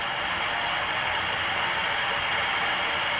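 A 48V electric bike hub motor spins freely under throttle with the rear wheel lifted off the ground, running on a 2-amp supply. It gives a steady, even high-pitched whine and hiss with no talk over it.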